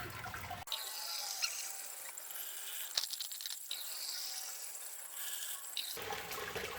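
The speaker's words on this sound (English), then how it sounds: "Sparging nice and fast, a bit too fast, I can't keep up" Water pouring quickly over a grain bed during a beer brew day sparge on a Robobrew Gen 3 electric brewing system: a steady hissing, splashing stream running for several seconds, moderately close, with no talk.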